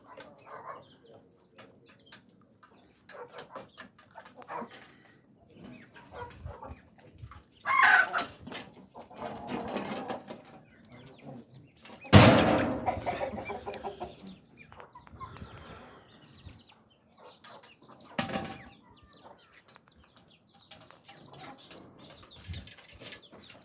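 Chickens in a home poultry farm cluck intermittently at moderate distance, with scattered bursts of wing flapping and scuffling over a quiet background.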